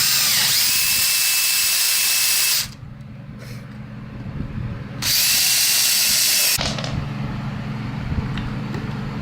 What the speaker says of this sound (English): I'm gonna take this off and drill the holes out all the way